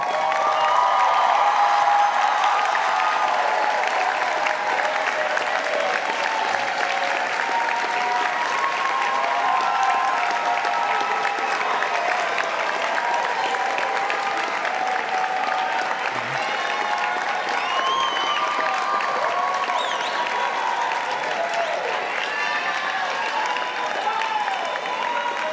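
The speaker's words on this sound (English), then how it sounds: "I invite you all to stand and thank with your applause the family members and loved ones in the audience" Sustained audience applause fills a hall at a medical school white coat ceremony, a dense even wash of many hands clapping for the full stretch without a break.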